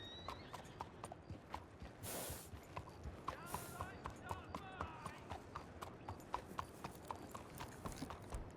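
Steady, rhythmic clip-clop of a black-and-white horse's hooves in Red Dead Redemption 2 roleplay, walking continuously with occasional brief gusts, heard clearly with low ambient game noise behind.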